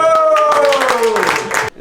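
Group of classmates on a reunion trip applauding together, a short burst of close, loud clapping over a voice still speaking, cutting off abruptly near the end.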